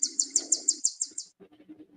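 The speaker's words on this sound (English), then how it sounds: "I can hear the birds" Birds chirp outdoors at night near a smoky shore, a rapid series of about eight bright, evenly spaced tweets. Fainter chirps follow, and a low murmur sits underneath.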